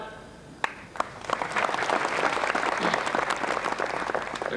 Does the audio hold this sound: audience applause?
yes